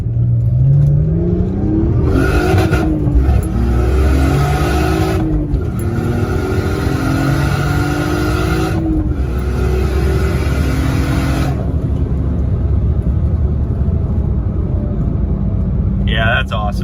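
A turbocharged BMW E46 revs repeatedly, its loud engine climbing and falling in several bursts with turbo flutter between pulls, a close, continuous roar with brief higher hissing releases.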